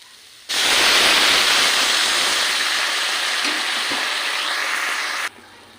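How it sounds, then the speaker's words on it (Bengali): Water poured into a hot pan of cooking pumpkin greens, a loud steady rushing hiss that starts abruptly, holds for about five seconds, then cuts off. "এখন জল অ্যাড করব।"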